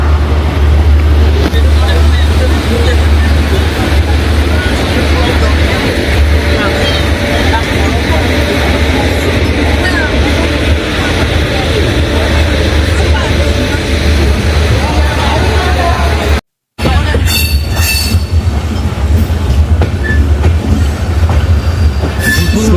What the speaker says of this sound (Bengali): কলকাতা স্টেশন থেকে একদম নির্ধারিত সময়ে আমাদের ট্রেন ছেড়ে চলে যাচ্ছে